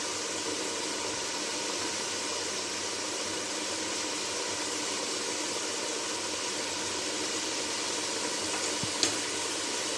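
Chicken with yogurt sizzling and being stirred in a pot for a yakhni pulao, a steady broadband fry hiss that holds throughout with one brief clink near the end, no talking.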